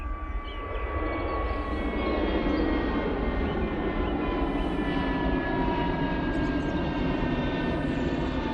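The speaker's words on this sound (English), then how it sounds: "There's an EasyJet coming through the that low cloud, that mist." An EasyJet airliner approaches through low cloud and mist in low-visibility conditions at Manchester Airport, a steady, loud engine roar with a whining tone that holds throughout.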